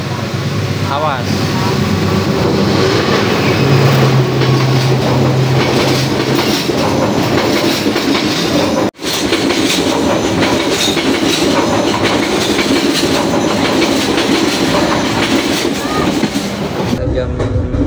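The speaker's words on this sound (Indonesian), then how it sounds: "kereta diberangkatkan kembali setelah menunggu persilangan kereta" A passenger train on Indonesia's southern line rolls loudly past a station in the rain, a continuous heavy rumble with rhythmic wheel clatter and hiss that holds steady for the whole stretch, with a brief dropout midway.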